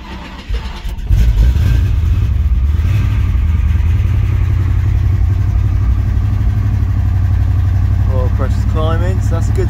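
A 1971 Chevrolet Chevelle pro-touring V8 muscle car engine cranks and fires after a couple of throttle pumps, then settles into a loud, steady, rumbling idle close by, with a voice briefly heard near the end.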